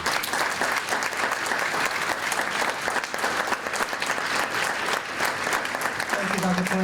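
Sustained audience applause at an award ceremony, dense steady clapping from a crowd filling the whole stretch, with some voices mixed in near the end.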